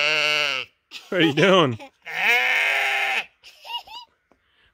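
Pregnant sheep bleating loudly and close, several long wavering cries in a row, with a person speaking briefly to them between calls.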